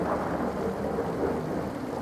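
Heavy rain pours steadily with deep rolling thunder rumbling beneath it, a dense and continuous film storm effect with no voices.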